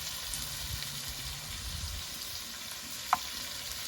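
Carrots and green chilies sizzling in a pan for semolina upma, with a steady soft frying hiss throughout and one brief sharp click or clink near the end, no talking.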